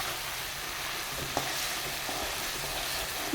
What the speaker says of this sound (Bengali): তোমরা দেখো কেমনভাবে নেড়ে নেড়ে আমি ভালোভাবে ভেজে নিচ্ছি